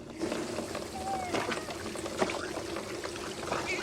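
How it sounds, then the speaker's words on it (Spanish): Water runs steadily into a bathtub, a continuous splashing pour with trickling texture throughout, heard up close beneath background sound. "Después pon primero agua en la bañera."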